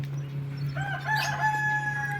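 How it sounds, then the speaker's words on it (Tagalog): A rooster crows once at a moderate distance in a Philippine housing project, a long drawn-out call over a steady low hum. "may mga manok, huni ng mga ibon"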